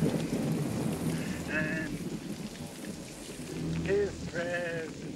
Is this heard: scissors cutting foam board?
no